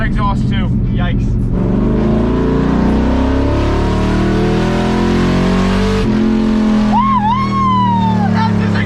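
A $2,500 budget build car accelerates hard, its engine note rising steadily and loud over several seconds with gear-change dips, while people talk and whoop inside the cabin.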